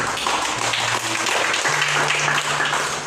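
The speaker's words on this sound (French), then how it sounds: "Applaudissez le Seigneur" Broadband clapping from a church congregation applauding during worship, a dense steady patter filling the whole stretch, with a low hum of voices or music beneath.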